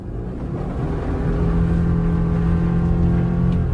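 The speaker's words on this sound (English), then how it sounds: "let's give it full throttle under normal driving conditions with traction on and see how it does" A 2024 Subaru Forester Wilderness pulls away at full throttle on a snow-covered open road in a blizzard, its engine drone rising steadily and loud, close by with no voices.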